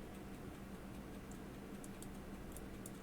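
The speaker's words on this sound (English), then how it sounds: "I can hear some ticking going on, which means the click spring that you saw earlier is clicking" Click spring inside an Elgin convertible pocket watch clicking while the crown is wound, faint rapid ticks scattered over a low steady hiss, close up and quiet.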